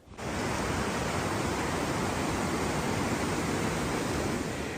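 Hadim Yer Köprü waterfall in Konya, Turkey, a dense, constant roar of rushing water filling the whole clip, loud and unbroken with no voices.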